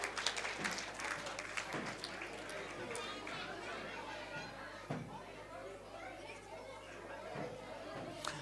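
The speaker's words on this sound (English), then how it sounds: "So a round of applause for this wonderful devotees." An audience at a children's festival applauds after a dance-drama performance; quiet, scattered clapping mixes with steady crowd chatter and children's voices throughout.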